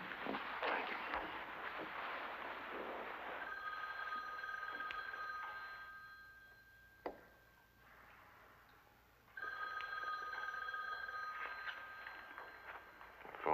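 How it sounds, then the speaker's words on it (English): An old telephone bell rings indoors in a 1978 drama scene, two long trilling bursts separated by a short pause with a faint click between, moderately loud and alone. "The phone's ringing."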